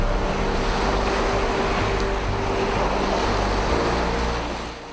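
Sea waves wash at Karachi harbour, where fishing boats sit at anchor. A loud, continuous surf roar with wind buffeting runs throughout, easing slightly at the end.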